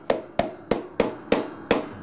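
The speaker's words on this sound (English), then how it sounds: "Or I could just hammer them in." Six sharp hammer blows drive nails into wood during an attic ladder repair, at an even pace, about three per second, loud and close with a ringing wooden knock on each hit.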